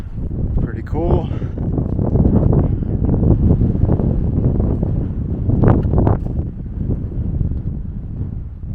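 Strong wind buffets the microphone on an exposed mountain peak in a state park, a loud steady roar with gusting surges, with a person briefly talking through it.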